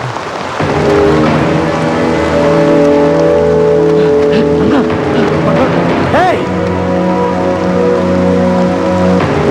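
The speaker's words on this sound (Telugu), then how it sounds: "వర్షం బాగా కురుస్తుంది" Steady heavy rain hisses throughout, with sustained tonal music playing over it.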